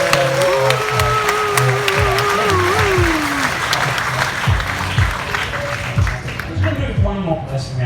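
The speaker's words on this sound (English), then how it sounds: "let's give these guys a massive round of applause" A large live audience applauds loudly and continuously with scattered cheers, the dense clapping filling the whole stretch while a voice talks over it at moments.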